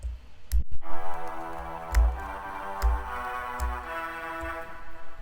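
A filtered violin drone from the Nexus Grandma's AM Radio preset holds a steady, muffled tone. Sparse clicks and low thumps sit over it. It is close and moderately quiet, with no voices.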